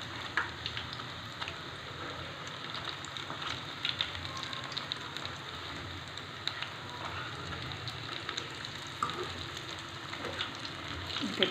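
Steady rain falls on a surface, a dense continuous patter with scattered louder drops, heard nearby at moderate level throughout without a break.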